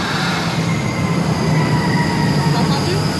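A train runs past on a French railway line in the south, loud and close, a steady roar of rolling wheels with high metallic wheel squeal running through it.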